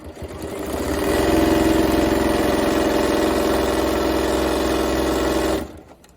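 A sewing machine stitches binding onto a quilt, running steadily and close for about five seconds before it stops. It holds a loud, even mechanical whir with rapid needle chatter, and no one speaks over it.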